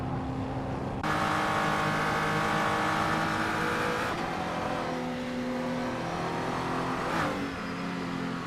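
Race cars roar through a racing video game, engines droning steadily with rising revs and brief tire squeals as several cars overtake one another.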